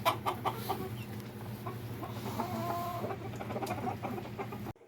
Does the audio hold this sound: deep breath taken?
no